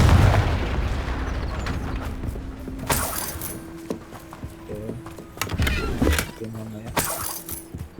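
Confringo blast spell explosions in the Hogwarts Legacy video game, heavy booms with shattering debris rising over a game soundtrack, two loud bursts a few seconds apart.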